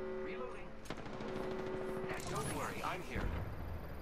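Video game gunfire comes as quick automatic bursts and clicking weapon sounds, fairly quiet, with a player talking over it.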